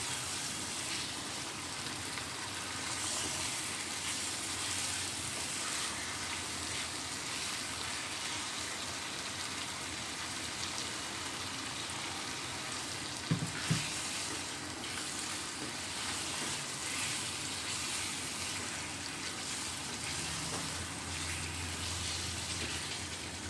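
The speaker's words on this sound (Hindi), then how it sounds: "अभी तो फिल वक्त हम भूनने के लिए पानी डाल रहे हैं" Water pouring into Kolhapuri chicken masala in a pan to roast it, giving a steady broadband hiss and sizzle that runs continuously throughout with a brief thump partway through.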